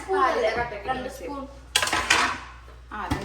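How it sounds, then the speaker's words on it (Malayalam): Kitchen utensils clatter and clink against pots and dishes while an avocado shake is made, with bright metallic knocks in short bursts mixed under a person talking. "എന്റെ കിച്ചണില് നല്ലോണം തട്ടുമുട്ടും ബഹളം ഉണ്ടാവൂട്ടാ."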